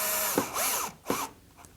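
A small power driver turns a screw into a pilot hole while mounting a Hunter Douglas cord tensioner for Duette honeycomb shades, heard as close, short whirring bursts separated by brief pauses.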